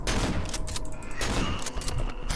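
Dense, loud blasts of video game shotgun fire from Cry of Fear come in rapid overlapping bursts, a chaotic barrage of shots with no speech.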